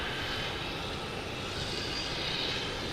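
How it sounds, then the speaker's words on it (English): A Delta Airbus A321 jet roars during takeoff at Boston Logan Airport, a steady broadband engine rumble that stays loud and constant throughout. "So we have Delta taking off on 15, heading to Orlando, an A321."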